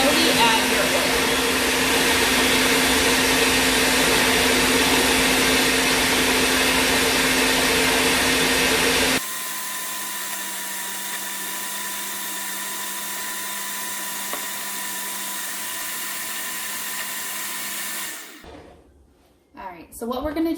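A blender whirs loudly as it purées dairy-free pesto, a steady high drone that drops to a lower, quieter pitch partway through and then cuts off near the end, with a voice talking over it.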